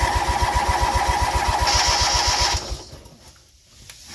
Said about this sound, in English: I got it to crank.